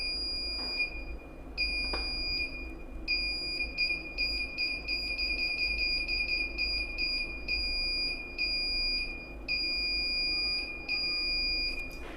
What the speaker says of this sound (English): whenever I am blinking, the LED and buzzer is high.